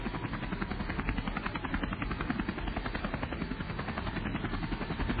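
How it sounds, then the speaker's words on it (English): Air America helicopter flying over Laos, a steady loud rotor chop and engine drone that holds evenly throughout with no pauses. "The Air America helicopters would fly in."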